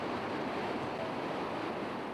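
Massive waterfalls pour an enormous volume of water, heard as a dense, steady roar of rushing water that stays constant and loud from start to finish.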